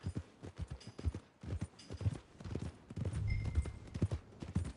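Horse hooves clip-clop steadily along a path in a Western video game, a close, even walking rhythm of hollow knocks continuing throughout, with a faint whinny-like tone partway through and no speech over it.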